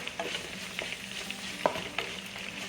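Curry cod fish cooks quietly in a pan, with a faint steady sizzle and a few soft stirring clinks. No one talks.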